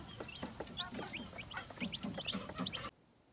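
Newly hatched chicks peep in quick, high chirps, a small brood calling steadily and fairly close, sheltered in a bamboo enclosure during bad weather, with a low background hum until the sound cuts off abruptly.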